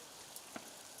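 Rain falls steadily on an outdoor American football field during a tournament, a soft, even hiss with a few faint drop ticks, quiet and without talk.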